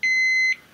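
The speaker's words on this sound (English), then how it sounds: "if the temperature is outside the range, it will actually alarm" A Medi-Log vaccine temperature monitor sounds its high-temperature alarm: one loud, steady electronic beep lasting about half a second, clean and close, then silence.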